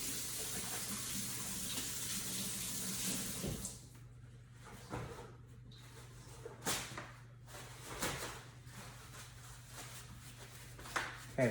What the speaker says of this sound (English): I'm just gonna rinse off my hands real quick.